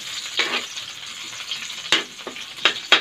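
Garlic and onion sautéing for spicy chicken feet adobo, a soft steady sizzle broken by a few sharp stirring scrapes and clatters near the end.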